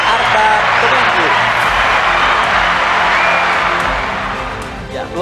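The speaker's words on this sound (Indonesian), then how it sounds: "Boleh kita berikan tepuk tangan sekali lagi pada teman-teman dari Teater Arta Kemenku." An audience applauds a theatre troupe, Teater Arta, after a stage performance: loud, dense clapping mixed with cheers that holds steady and then tapers off near the end.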